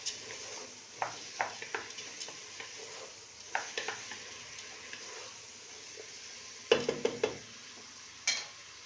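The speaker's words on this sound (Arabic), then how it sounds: "راح نضيف الجلبانه هذه اليابسه حتى هي نخليها الزيت تتقلى وتاخذ وقتها في التقليه" Dried peas frying in oil for a pea soup, with a steady low sizzle broken by sharp utensil clicks and scrapes against the pot, quiet and close, no voices.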